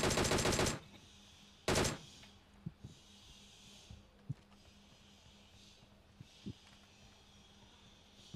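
Two loud bursts of automatic gunfire in PUBG Mobile, one at the start and one shortly after, followed by a quieter stretch with scattered faint shots and clicks.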